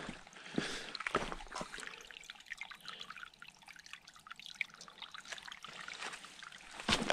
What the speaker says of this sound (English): This is the muddy water source.